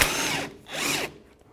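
On a 2008–2012 Jeep Liberty, a power tool with an 18mm socket spins a nut off in two short, loud whirring bursts separated by a brief pause.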